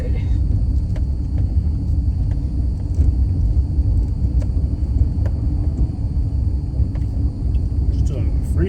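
A car drives through city streets, its low engine and road rumble holding steady and close throughout, with faint ticks and clatter scattered over the constant drone.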